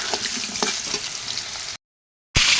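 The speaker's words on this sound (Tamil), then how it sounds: "கோல்டன் கலர் ப்ரௌன் ஆகிற வரைக்கும் நல்லா ஃப்ரை பண்ணணும்" Potatoes deep frying in oil until golden brown, a dense, bright bubbling sizzle heard close and without talk, cut off by a brief gap of silence before resuming loudly.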